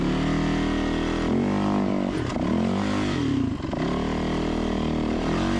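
A dirt bike on worn tall-knob tires climbs over a ledge, its engine revving and bogging in loud, surging bursts with clattering and scraping as the bike lurches up the obstacle.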